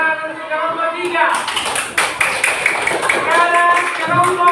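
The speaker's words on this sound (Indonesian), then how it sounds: "Oke, tepuk tangan untuk kelompok 3." A class of children claps for the third student group in a classroom teaching session, a steady run of handclaps mixed with a teacher's talk and young voices.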